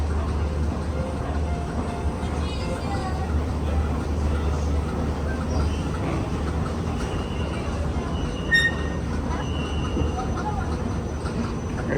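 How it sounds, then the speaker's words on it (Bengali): An underground metro train about 600 feet below ground rumbles in with a steady low roar and faint wheel squeals, while voices murmur quietly in the station. "এক ট্রেন আইছে"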